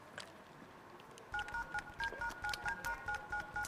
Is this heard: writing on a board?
no